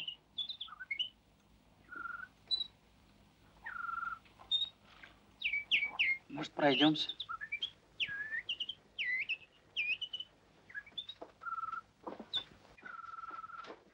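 A nightingale sings faintly nearby, giving short whistled phrases and quick chirps in bursts with brief pauses; a voice briefly speaks over it.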